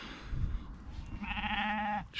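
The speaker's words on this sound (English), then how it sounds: "Shut up, sheep." A single sheep gives one clear, wavering bleat lasting under a second, fairly close, heard outdoors during a long-distance unicycle ride across the UK.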